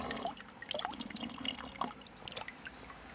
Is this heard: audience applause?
no